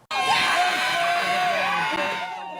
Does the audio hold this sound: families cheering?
yes